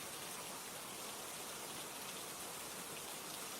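Rain falls steadily as a dense, even hiss of drops that stays at constant low loudness throughout, with no voices or other sounds.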